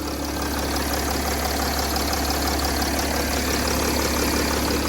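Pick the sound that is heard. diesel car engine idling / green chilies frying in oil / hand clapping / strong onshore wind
diesel car engine idling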